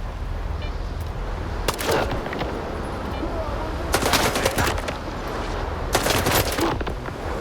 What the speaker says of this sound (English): Ведеться вогонь на ворога.